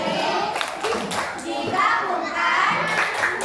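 Children in a classroom perform the tepuk gujok clapping routine, rhythmic hand claps mixed with chanted voices, close and lively with an adult voice leading.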